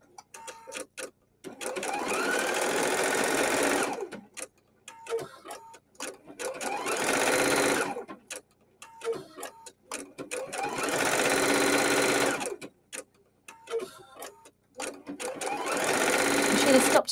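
A Husqvarna Viking embroidery sewing machine stitching a cutwork design runs in repeated loud, steady whirring bursts of a few seconds each, separated by pauses filled with clicks and a person talking.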